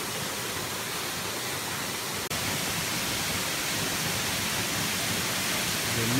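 Steady, full roar of the Pala Munsoh waterfall in Ulu Sarikei, Sarawak, a dense broadband rush close by that holds unbroken throughout, with one tiny click partway through.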